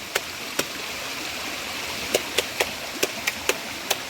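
Soft, continuous rushing water from the Koshmal-Bhigu Waterfall hisses in the background, with about a dozen sharp, irregular clicks or taps sounding over it.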